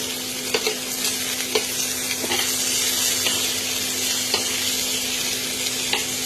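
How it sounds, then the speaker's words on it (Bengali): Paneer cubes fry in a little ghee on a flat griddle, giving a steady close sizzle with regular light taps and scrapes from turning, plus a faint steady hum underneath. "একদম সামান্য চাটুতে একটুখানি এরকম ঘি দিয়ে আমি ফ্রাই করে নিই"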